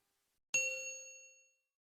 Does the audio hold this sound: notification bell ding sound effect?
yes